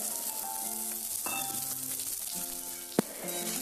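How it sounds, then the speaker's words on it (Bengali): Diced potatoes sizzle in hot oil seasoned with nigella seeds, a soft steady frying crackle close up with a few light clinks of a spatula against the pan. "আলুগুলো দিয়ে আমি একটু ভাজা ভাজা করে নেব।"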